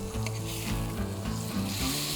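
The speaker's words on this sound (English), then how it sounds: "keep just basting the nice caramelised butter over the steak" A sirloin steak sizzles in caramelised butter in a pan, a continuous close crackling hiss with soft pulses as the butter is spooned over it, and no voices.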